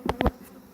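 Honeybees buzz briefly at a beehive, two or three short close buzzing passes before fading to faint background hum.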